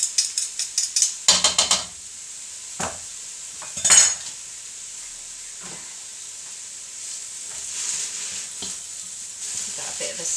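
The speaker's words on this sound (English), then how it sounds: "Give that a bit of a stir." Garlic and carrot noodles stirred in a pan: a quick run of sharp utensil scrapes at the start, then a few isolated clinks over a soft steady sizzle, close and with no talking.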